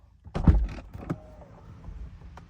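A 2022 Corvette C8.R power window motor whirs briefly, ending with a soft thunk, close and clear with no talking.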